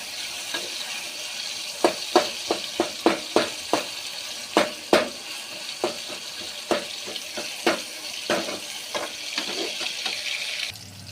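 Snake gourd seeds fry in hot oil with a steady sizzle broken by a series of sharp, irregular crackles and pops, close and alone.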